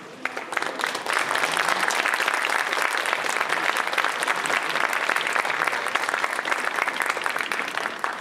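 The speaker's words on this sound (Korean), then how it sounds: "하객 여러분들께서는 큰 박수로 이들의 인사를 받아주시기 바랍니다." Wedding guests applaud at a traditional Korean wedding ceremony, a sustained, even burst of many hands clapping from a sizable crowd, with no speech over it.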